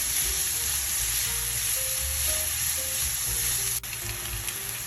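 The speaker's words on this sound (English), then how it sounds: "Here, we're going to saute these for 3 minutes or so" Minced onions sauté in olive oil in a pan, a steady close sizzle and hiss throughout with light stirring scrapes, and no talking.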